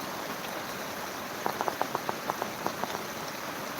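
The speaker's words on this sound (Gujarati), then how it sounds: "મિત્રો વરસાદ તો જોવો તમે" Rain falling in Dumlav village, Pardi taluka, during an unseasonal late-October downpour: a steady wash of rainfall with a run of sharper drip-like taps in the middle, no voices.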